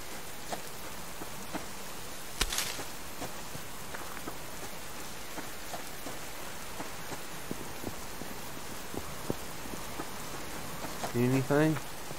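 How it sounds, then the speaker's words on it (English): Steady rain falls in a survival game world, a soft continuous patter with scattered drops throughout, a brief louder crackle early and a short tonal game sound near the end. "It's going to rain."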